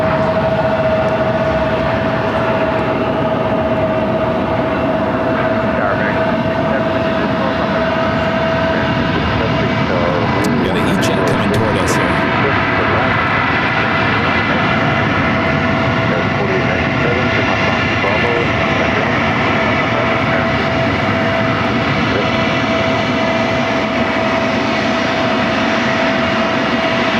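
An American CRJ jet lands on runway 26 at Phoenix airport, its engine roar loud and sustained throughout, with a steady whine running beneath the broad rumble.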